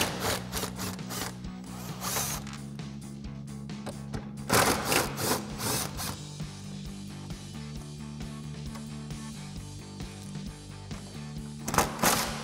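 A ratchet removes the bottom bolts of a Teraflex Alpha HD hinged spare tire carrier on a Jeep Wrangler JL, giving close, repeated bursts of rapid mechanical clicking with short pauses between them.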